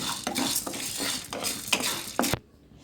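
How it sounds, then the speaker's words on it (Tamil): Curry leaves being sautéed in a pan for karuveppilai podi, a dry rustling stir with repeated scrapes and taps of a spatula against the pan, then an abrupt stop. "நல்லா ஃப்ரை பண்ணிக்கோங்க"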